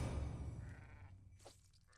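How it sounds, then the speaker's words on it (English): A sheep in the video game Realms of Magic gives a short, faint bleat near the end, after a low rumbling background that fades away. "Ah, sheep."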